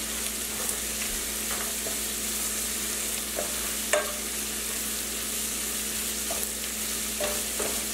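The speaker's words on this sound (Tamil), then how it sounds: "வெங்காயம் நல்லா வதங்கணும்." Onions frying in a pan for Tamil chicken chukka, a steady broadband sizzle with occasional scraping stirs and light clicks of the spoon, close and moderately loud with no talking.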